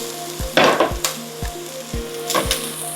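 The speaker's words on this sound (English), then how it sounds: "we're going to add in the garlic. And continue sauteing for about 30 seconds." Garlic and onion sautéing in a pan for beef stroganoff, a bright, busy sizzle punctuated by a few scraping stirs and soft knocks, close up and with no talking.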